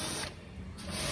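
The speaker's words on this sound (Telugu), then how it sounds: "స్ప్రే మన జెట్ మిషన్తో అయితే క్లీన్ చేస్తాం." A jet spray machine blasts water inside an IFB washing machine drum, a loud continuous hiss that eases briefly in the middle before surging again.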